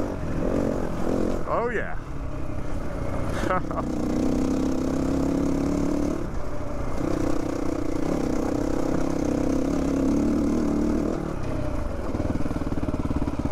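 A 2022 GPX Moto FSE450R motorcycle engine runs with a steady, close mid-pitched hum throughout, and a voice speaks briefly over it.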